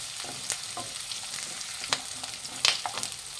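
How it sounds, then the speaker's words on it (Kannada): Curry leaves fry in a pan for a radish chutney, giving a soft steady sizzle with a few sharp crackles and pops, one louder burst near the end, no voices. "ಕರಿಬೇವು ಹಾಕ್ತಾಯಿದ್ದೀನಿ. ಇದಷ್ಟು ಫ್ರೈ ಮಾಡಿ"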